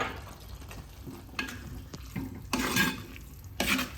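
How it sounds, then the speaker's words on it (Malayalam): A vegetable roast of cabbage, carrot and mango is stirred in a pan after garam masala goes in, giving intermittent scraping bursts over a faint sizzle, close by and without talk. "ഗരം മസാല ഇട്ട് കൊടുത്തിട്ട് നമ്മളൊന്ന് ഇളക്കട്ടെ"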